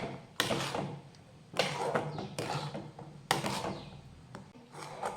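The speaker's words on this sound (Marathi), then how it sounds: "आपण मंद आचेवर सतत हलवत घट्ट होईपर्यंत हे सतत हलवत राहूयात" A spoon stirring and scraping a thickening milk powder modak mixture in a pan over low heat, giving several rough rubbing strokes at an uneven rhythm, close and fairly quiet, with no talking.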